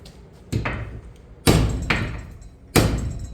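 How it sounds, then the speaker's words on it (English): Three heavy hammer blows on a piece of 5160 steel held in a vise, spaced about a second apart, each ringing briefly before fading. "Let's hit it with a hammer."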